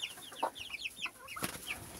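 Backyard hens cluck in short, chirpy bursts, several birds overlapping at close range with a few sharper calls standing out, no talking.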